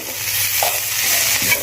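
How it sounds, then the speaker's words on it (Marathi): Coriander powder and salt being stirred into methi zunka, fenugreek greens cooking in a pan, a soft steady sizzle with a couple of light scraping strokes, close and without speech. "आणि असं मिक्स करून घेऊयात"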